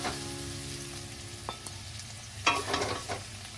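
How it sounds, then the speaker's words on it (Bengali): Soft sizzling with a few scraping stirs of onions frying on high flame in a pan, fairly quiet, building slightly toward the end, with no voices. "এবার হাই ফ্লেমে রেখে ভালো করে নাড়িয়ে নেব"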